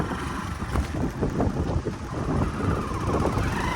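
Strong wind roars and gusts against the microphone in a continuous, heavy buffeting rumble during a storm with flooding in Banaskantha, with no one speaking.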